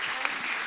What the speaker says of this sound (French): Merci, vous pouvez les applaudir.